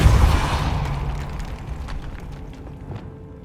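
The Depulso spell in Hogwarts Legacy goes off as a deep booming blast that decays into a rumbling tail, with faint crackles as it fades.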